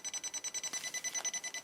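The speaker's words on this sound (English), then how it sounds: "And it triggers the alarm. It's beeping and also vibrating." A FNIRSI radiation detector held near a radioactive lantern mantle sounds its alarm, a rapid train of short high-pitched beeps repeating evenly with a faint vibrating buzz, close and moderately loud.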